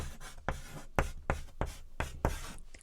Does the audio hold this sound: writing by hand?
yes